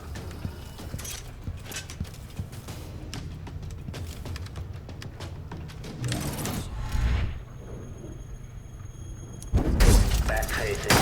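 Clockwork soldiers shattering in the video game Dishonored 2: scattered mechanical clanks and creaks build to loud crashing breakups, with a final heavy burst near the end over a low game ambience.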